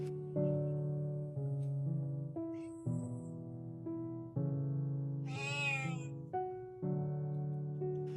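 A pet cat, once a stray, meows repeatedly up close in a series of drawn-out, tonal cries, about eight calls with short pauses between, one rising into a higher, strained wail.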